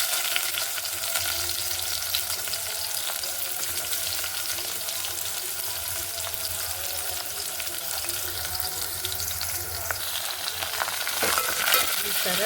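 Cumin and onions fry in hot oil with a dense, steady sizzle that runs for the whole stretch at an even level, with a few stirring scrapes near the end.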